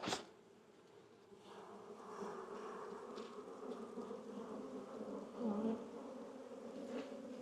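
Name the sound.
honey bees buzzing during hive inspection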